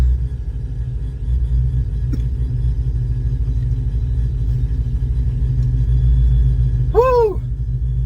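Engine fitted with a TorqStorm TS84R mid-size supercharger, producing a steady, loud low rumble, with a brief rising whine near the end.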